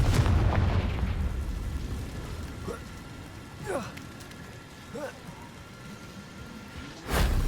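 A Confringo fire spell bursts in Hogwarts Legacy, a few short booming blasts with crackling tails spread across the moment, the last one loud and sharp, over steady game ambience.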